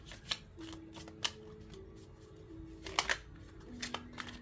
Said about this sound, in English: I need to shuffle these good